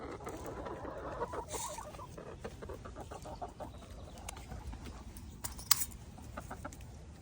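Chickens cluck quietly in a steady outdoor background, with a few sharper clucks and scratching noises close by.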